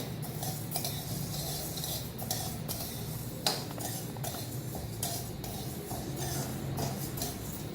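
A utensil scrapes and clinks against a kadai in quick, irregular strokes as pongal ingredients roast over a high flame, steady and fairly close.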